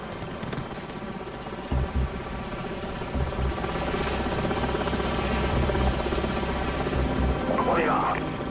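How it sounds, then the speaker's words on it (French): An enemy helicopter's rotor thudding loudly and steadily through a battle in the game Modern Warfare, with a continuous low rumble and buzz under urgent French voice chatter and radio calls. "Hélicoptère ennemi!"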